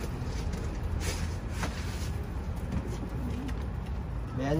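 Pigeons cooing nearby in soft, repeated low calls over a steady background rush, with no talking.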